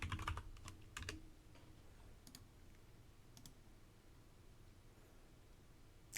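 Keys clack on a computer keyboard while a file is renamed, a few quick bursts of faint clicks near the start and a couple more later, spaced apart over quiet room tone with no talk.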